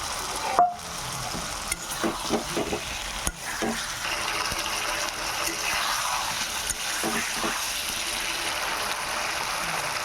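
Boiled egg and potato sizzling and crackling in a pan with ground spices, chilli powder and turmeric, with a few sharp clinks and scrapes of stirring near the start.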